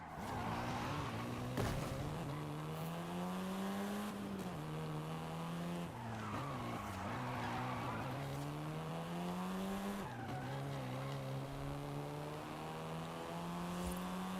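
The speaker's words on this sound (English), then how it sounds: "This version is the Volkswagen Golf R, R meaning race." A Volkswagen Golf R in Forza Horizon 5 drives hard, its engine note rising and falling through gear changes, with tire squeal and skidding, loud and close with no talk.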